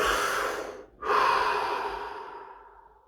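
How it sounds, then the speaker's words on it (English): A deep breath: a long, close airy inhale, a brief pause, then a fuller exhale that fades out gradually. "Deep breath."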